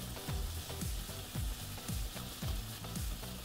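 Steak searing in a pan in a restaurant simulator video game: a steady frying sizzle with a repeating stir-like scrape roughly every half second, loud and close, with no talk.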